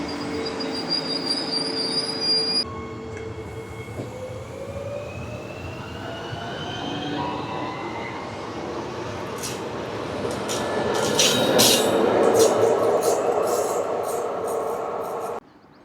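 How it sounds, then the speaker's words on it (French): A train pulls into the platform at Lyon Perrache station, its wheels screeching and squealing in rising tones as it rolls in and slows; the rumble grows louder toward the end, and no one speaks. "Voici, le train entre en gare."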